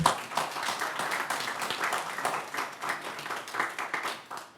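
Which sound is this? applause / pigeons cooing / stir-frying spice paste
applause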